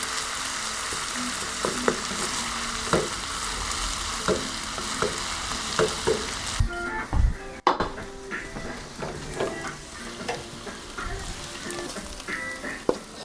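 Rice fries with vegetables in a pan in an off-grid cabin kitchen, a steady close sizzle with frequent scraping and clinks of a utensil against the pan as the rice is broken up, briefly louder then settling.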